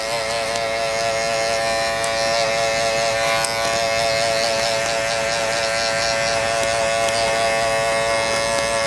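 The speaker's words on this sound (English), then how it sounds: "And again, drop to the midpoint of the clipper." An electric hair clipper buzzes steadily and close up, a constant droning hum with no pauses, as a barber works a skin fade, blending the guard lengths from closed through mid to open lever.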